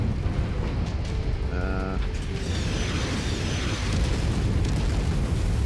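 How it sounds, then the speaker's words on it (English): Artillery explosions in the Mechwarrior 5 video game, a dense continuous rumbling barrage of booms that stays loud throughout, with a short tonal mechanical whine partway through. "the Highlander's ability to jump will allow us to jump over the artillery explosions"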